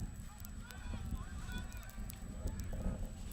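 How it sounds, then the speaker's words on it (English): A horn sounds from a neighbouring field beside an Australian rules football match, a honking blast heard over a noisy crowd and outdoor bustle, fairly distant. "the horn blew for the field that's next to us"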